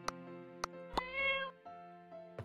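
Pinky, a pet cat in the farming-life game My Time at Portia, gives several short, clear meows close by, including one longer, drawn-out call, over a steady tonal background.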